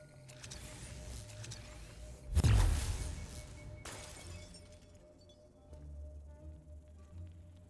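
A statue exhibit gets smashed in Ghostbusters: Spirits Unleashed, one loud crashing burst of breaking debris rising out of a quiet ambient game background, followed by a smaller crack and then a fading hum.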